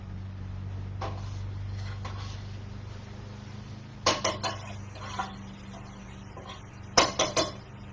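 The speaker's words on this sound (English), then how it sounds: "So let me do some more stirring around." A spoon scrapes and clinks against a metal pot while keto gumbo is stirred, giving short bursts of clattering taps with quiet pauses between them and a low hum underneath.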